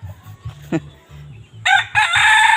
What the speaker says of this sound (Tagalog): Manok silingan ba to?